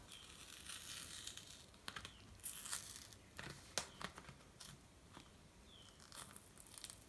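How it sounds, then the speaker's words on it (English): Crinkling and tearing plastic as a Zooper Dooper pineapple flavoured milk package is opened, close and quiet, in scattered crackles and rips. "let's open this one up."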